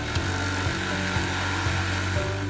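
UPT-250M multi-blade saw cutting wooden beams fed continuously by conveyor, a steady loud machine drone with rhythmic thumps about every half second as the beams pass through.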